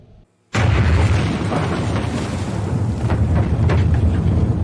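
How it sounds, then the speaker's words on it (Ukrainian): A sudden massive boom from a film's explosion shock wave bursts in after brief near-silence, followed by a sustained roaring rumble that fills the rest of the clip. "І вона різко переривається гучним звуком вибуху від хвилі, що долетіла до позиції спостерігання."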